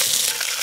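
Chopped fish bones frying in a small amount of hot oil in a wok, a steady bright sizzle close up with no talk.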